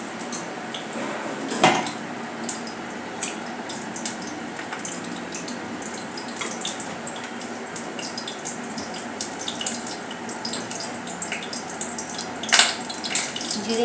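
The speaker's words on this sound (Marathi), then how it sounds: "आता यात घालणार आहोत पाव चमचा जिरे, जिरे चांगले फुलून देऊया" Cumin seeds crackle in a spoonful of hot oil in a pan, giving a steady, close hiss and sputter with scattered sharp pops and a few louder spits. No one speaks.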